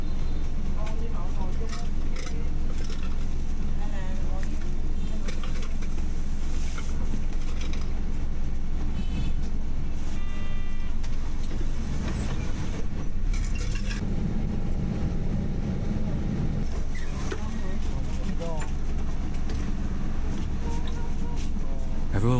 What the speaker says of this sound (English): More and more passengers are boarding the bus.